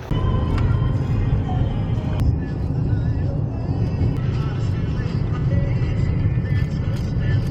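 A car drives along the road toward Dorney Park amusement park, its steady engine and road rumble filling the cabin throughout, with people talking over it now and then.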